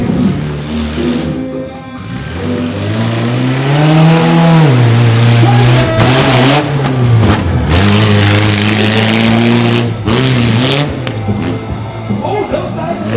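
Mini Stinger Unleashed, a mini monster truck at a monster truck show, revs loudly up and down as it races, its engine pitch rising and falling, with a crowd and an announcer's voice mixed in.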